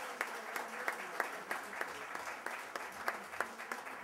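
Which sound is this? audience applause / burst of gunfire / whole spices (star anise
audience applause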